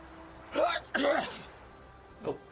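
A person sneezes sharply, in two quick bursts followed by a softer third sound, close and fairly loud against a quiet background.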